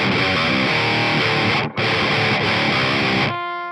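Distorted electric guitar in drop C tuning plays the intro riff of a song, loud and dense with sustained chords, a brief cut near the middle, then a ringing fade at the end.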